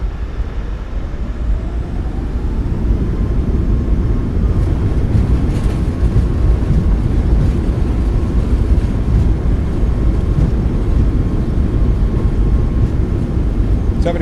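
A Boeing 737 MAX 8 landing in Microsoft Flight Simulator 2024 deploys its thrust reversers, a loud, dense engine roar that swells early on, then holds steady and close for the rest of the rollout.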